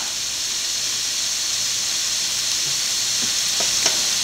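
Chili powder and crushed chili fry in hot oil in a pan, giving a steady broadband sizzle throughout with a few light stirring scrapes near the end and no voices.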